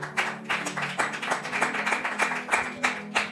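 A church congregation claps together in acclamation during a French-language sermon, a steady rhythmic beat of many hands, fairly close and moderately loud, with no voices over it.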